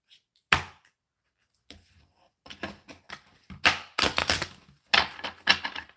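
Large tarot cards shuffled by hand, giving bursts of crisp riffling and slapping that come in uneven clusters, some quiet gaps between them, heard close and without any talk.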